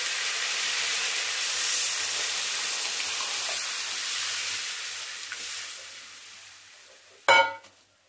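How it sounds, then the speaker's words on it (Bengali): Lentil dal tipped into a pan of fried ginger and cumin paste whose water has cooked off, giving a steady close sizzling hiss that slowly fades, then one sharp loud burst of spitting near the end. "এবার আমি ডালটা ঢেলে দেবো।"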